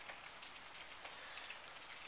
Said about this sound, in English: this rain is ridiculous